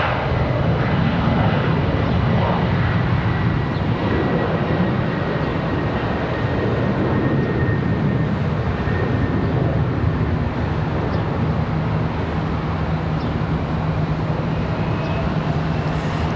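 Airplane engines roar loudly and steadily at the runway of Charlotte Douglas airport, a continuous broadband rumble with a low drone that holds for the whole stretch, no talking.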